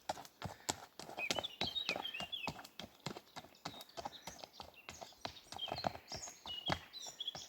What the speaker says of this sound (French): c'est pas toujours qu'on croise des chevaux